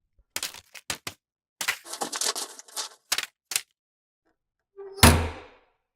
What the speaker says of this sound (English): they hear the sound of the mailman opening the mail slot in the front door. And then the sound of letters hitting the floor.